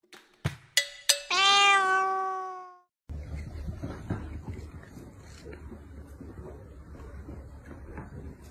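A cat gives one long, loud, drawn-out meow after a few sharp knocks, then a rustling, shuffling bustle of movement and clatter follows.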